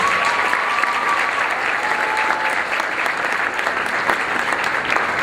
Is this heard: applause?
yes